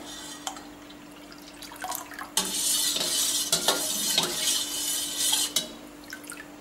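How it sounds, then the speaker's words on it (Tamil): Lemon juice is poured into a cooled syrup of ginger, mint and sugar, making a steady liquid splash and trickle for about three seconds, with a few drips and clinks before and after. "இப்போ இதை வந்து லெமன் ஜூஸ் ஊற்றுறேன்."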